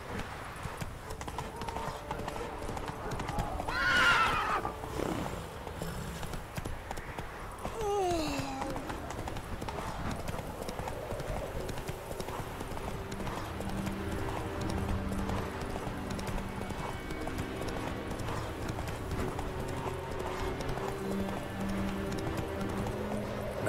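Roach the horse from The Witcher 3 gallops with steady rhythmic hoofbeats, with a couple of neighs or whinnies near the start, all under game ambience and music.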